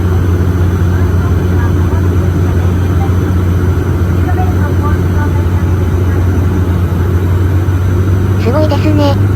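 Cabin of a small airliner landing on the short Minami-Daito to Kita-Daito hop, a loud steady engine and propeller drone filling the whole stretch, with faint voices beneath it.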